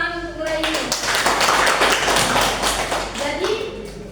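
Classroom applause from students and teachers during a lesson, a burst of clapping lasting a few seconds with a voice speaking just before and after.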